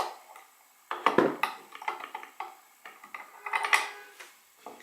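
Metal and plastic parts of a Lansky Deluxe knife sharpening system clatter and click as its clamp is loosened around a Kizer Sheepdog knife, a close series of sharp taps and scrapes with no voices.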